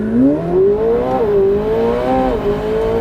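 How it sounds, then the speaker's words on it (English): A McLaren 750S Spider engine accelerates hard under launch control with a steady rising whine, loud and close, its pitch climbing smoothly as it pulls away. "I will hit the launch control button, hold my foot on the brake, pin the throttle, build up the revs"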